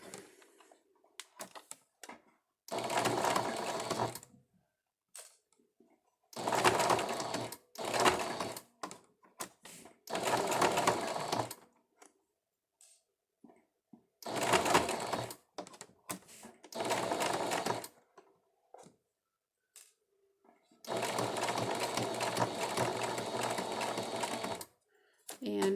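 A sewing machine runs top stitching around a fabric face mask fitted with a metal nose piece, sounding in several steady motorized bursts of a few seconds each, separated by pauses with faint handling noises.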